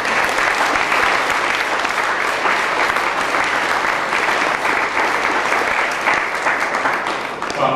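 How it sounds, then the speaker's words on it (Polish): Sustained applause from a school assembly audience at a May anniversary ceremony, a thick continuous wash of many people clapping, loud and even throughout. "Serdeczne brawa."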